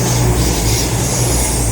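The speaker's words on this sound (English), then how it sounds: "I'm taking Rookdip to the train station for the first time." Steady, loud rumble of a train at a railway station, a continuous low drone with hiss above it and no clear rhythm, filling the whole moment with no talk.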